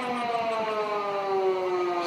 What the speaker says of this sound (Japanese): パトカーが2台、もう1台来てます。